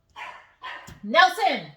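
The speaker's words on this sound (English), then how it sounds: "Sorry, that's my dog." A pet dog barks twice in a home office, then lets out a louder yelping whine, close and sharp, with a person calling out over it.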